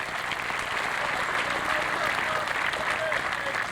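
Beach volleyball crowd at a women's final applauding steadily, a dense, continuous wash of clapping with faint voices mixed in, fairly close and sustained throughout.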